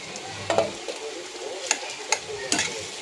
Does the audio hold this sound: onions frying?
yes